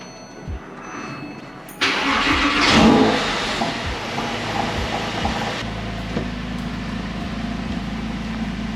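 A 2005 Porsche 911 (997) engine cranks and fires after a battery change, catching with a loud burst that swells briefly, then settles into a steady, close idle with no talking over it.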